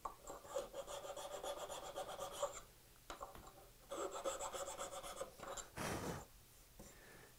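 Rasping strokes of a file cleaning the sidewalls of wood houndstooth dovetails, close and steady in several runs separated by brief pauses, with a short broad scrape near the end.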